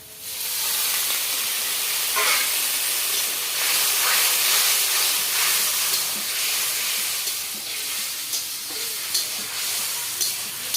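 Water poured into hot fried spice paste with turmeric, a loud continuous sizzle and hiss close up, steady throughout with small crackling spikes.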